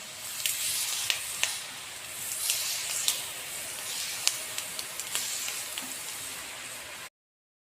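Murukku dough made from three kinds of lentils pressed into hot oil, giving a steady close hiss and sizzle of frying for about seven seconds, with small sharp crackles scattered throughout before it cuts off.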